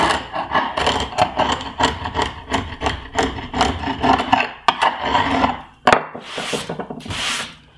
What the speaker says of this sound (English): I want to get the bulk of that glue off with a sharp chisel